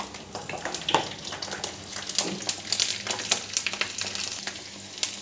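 Garlic fries in hot tempering oil with mustard seeds, urad dal and chana dal, crackling and sizzling close up with irregular spatters and the scrape of stirring.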